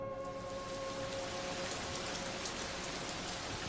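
Steady rain pours down without pause in the dark around a tent, forming a dense, even hiss that stays loud and constant throughout, with no voices.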